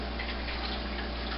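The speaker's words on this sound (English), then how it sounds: "Just nicely straining the milk out of the bag and giving it a good squeeze." Homemade almond milk straining through a fine mesh nylon bag as it is squeezed, a steady, close, continuous watery rush and trickle with no break.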